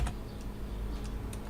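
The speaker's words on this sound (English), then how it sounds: "and type in protect" A few quiet keystrokes on a computer keyboard while entering text in Excel, with sparse clicks spread over a low background hum.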